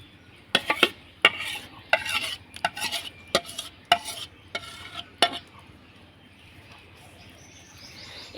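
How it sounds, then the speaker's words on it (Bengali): Spoon stirring sabudana (sago) paste into warm water in a pot, a run of sharp scraping, clattering strokes in an irregular rhythm, close and fairly loud, then fading to quiet near the end. "এবার আমি এইভাবে করে ভালো করে মিশিয়ে অনবরত কিন্তু নাড়াচাড়ানো করতে হবে, নাহলে নিচের দিকটায় লেগে যাবে।"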